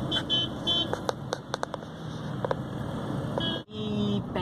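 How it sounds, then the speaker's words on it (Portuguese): Several short horn beeps from motorcycles sound amid busy city traffic near an airport-link station under construction, with steady road noise throughout and a brief dropout near the end. "Olha as motos buzinando."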